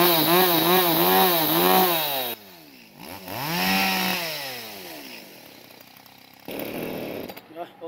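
An Echo CS-381 39.6cc chainsaw with a 50 cm bar revs up and down in loud, close whining surges, then drops toward idle and sputters near the end.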